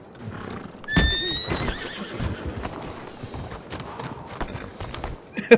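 A horse in Red Dead Redemption whinnies loudly once, then hooves clip-clop unevenly over the ground at close range, with a sharp knock near the end.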